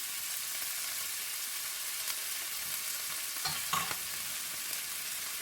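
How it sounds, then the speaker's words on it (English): Meat, a mix of beef and pork, frying in heated rapeseed and olive oil for baked macaroni, with a steady close sizzle throughout and a few brief clattering bursts midway, no voices. "I have a mix of rapeseed oil and olive oil heated up. And just scatter your"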